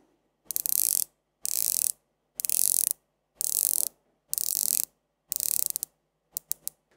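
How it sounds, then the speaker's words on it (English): A 2021 Pagani Design 1661 watch bezel is turned through a full circle of its 120 clicks. Six quick, crisp ratcheting bursts sound close up, separated by short pauses, then a few single clicks at the end. "So this was 120 clicks bezel from Pagani design 1661, this year model, 2021."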